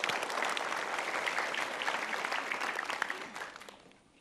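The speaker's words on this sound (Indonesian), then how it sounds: "Kita berikan tepuk tangan dulu." Sustained applause from a crowd, steady and dense throughout, then thinning out and fading in the final second.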